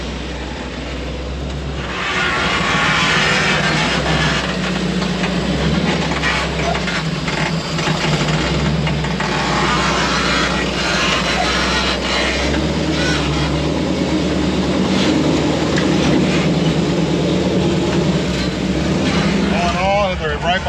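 A Jeep engine driving off trail, a steady loud motor drone that holds throughout with slight shifts in pitch, close to the microphone, with people talking over it.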